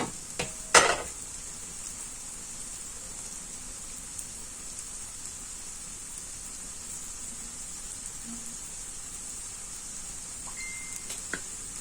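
Pancake frying in a generous amount of oil in a pan, a steady soft sizzle running throughout at low level, with a brief clatter of utensil or pan contact near the start and a couple of faint clicks near the end.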